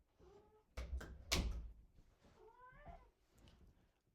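A house cat meows a few times in quick succession, its rising cries close and clear, following a couple of loud thumps, in an otherwise quiet room.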